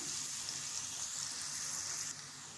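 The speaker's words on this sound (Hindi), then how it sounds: "प्याज को हम बहुत ज़्यादा ब्राउन नहीं करेंगे, बस हल्का सा गोल्डन कलर आ जाए इतना हमने उसको फ्राई करना है" Chopped onions frying in a pan, cooked only to a light golden colour for an aloo baingan dish; a steady, soft hiss of sizzling oil runs throughout, dropping slightly quieter near the end.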